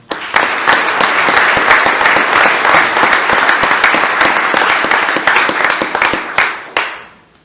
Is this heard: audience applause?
yes